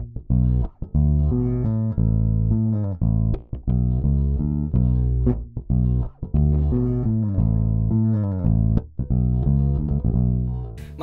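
A Reverend Brad Houser Fatfish electric bass plays a riff, loud and close, with punchy plucked notes in a funky syncopated line and no talking.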